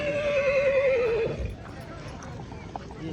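At a crowded fair, a horse gives a loud wavering neigh up close, then hooves clop amid the crowd noise as someone talks.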